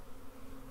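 Honey bees crawling over a frame in a newly arrived nuc for a Flow Hive on a homestead garden, giving a close, steady buzzing hum with a low droning pitch and slight wavering, no voices present.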